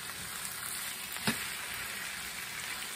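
Hot dogs fry with tomato sauce in a hot pan for a New York street dog recipe, a steady close sizzle with one brief stirring scrape partway through.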